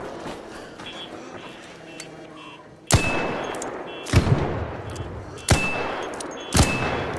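Gunfire in the video game Arc Raiders, four sharp loud shots with metallic ringing tails spaced about a second apart, following quieter distant crackling.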